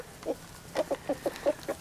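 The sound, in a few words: chickens clucking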